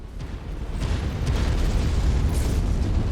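An enemy mech blows up in MechWarrior 5: Mercenaries, a loud, sustained rumbling explosion that swells and rolls on with a deep, dense roar for several seconds.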